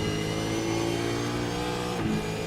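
A race car engine in iRacing revs hard under heavy throttle, a Supercars machine on the Okayama circuit holding a steady, loud, buzzing drone with a brief dip in pitch near the end, with no talk over it.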